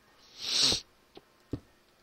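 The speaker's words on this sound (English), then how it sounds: "sorry about the sniffling" One long breathy sniffle followed by two short, quieter sniffs, close by, with silence between them.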